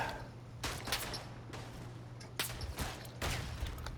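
Gunfire in the World War I shooter Verdun, with several loud sharp shots and bursts spaced a second or so apart over a low steady background hum.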